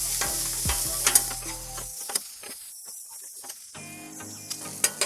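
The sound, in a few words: Big Mac meat searing and stirred on griddle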